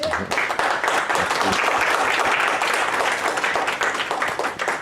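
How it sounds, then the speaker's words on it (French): An audience at a workplace conference applauds two speakers, producing a full, steady round of clapping from many hands that continues evenly for several seconds before tapering slightly. "on peut peut-être applaudir nos deux conférenciers."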